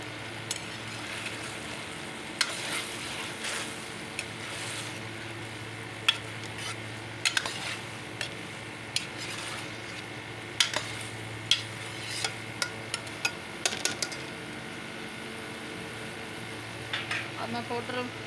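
Tomato paste, about one cup, goes into okra frying in a pan and gets stirred, giving a soft steady sizzle with scattered clinks and scrapes of a spoon against the pot.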